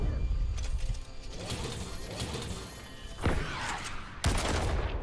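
A quad launcher fires in a Fortnite match: loud, dense bursts of rapid explosive blasts, with sharp booming impacts and rattling mechanical clatter in the middle and near the end, no speech over it.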